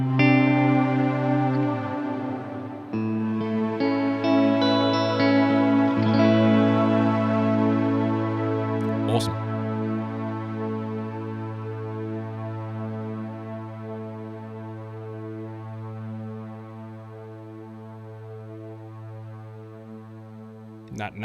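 A guitar played through a Strymon Cloudburst ambient reverb pedal, a sustained chord swelling into a dense orchestral wash that rings on and slowly fades over about twenty seconds.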